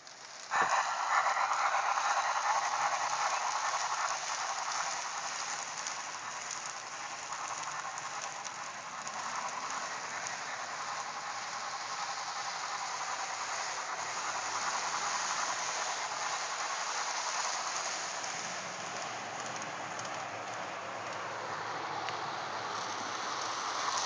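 A Blue Line Mikado model steam locomotive runs steadily, giving a continuous hissing, rushing mechanical noise that holds at an even level throughout with no voices.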